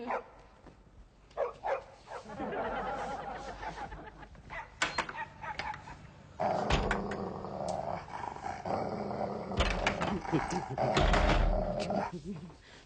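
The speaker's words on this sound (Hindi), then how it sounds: "इन कुत्तों का तो कुछ करना पड़ेगा। कुछ करो, सोने भी नहीं देते, रात भर भौंकते रहते हैं।" Dogs barking and growling at night, a series of sharp barks and rough growls in bursts, fairly close and loud, with some voices mixed in.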